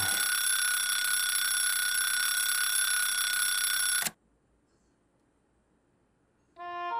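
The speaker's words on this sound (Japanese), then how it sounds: "こんな時間に目覚ましは" An alarm clock rings in the video game Tokyo Xanadu as a loud, steady electronic tone that cuts off abruptly after about four seconds. After a short silence, a fainter, pulsing alarm tone starts.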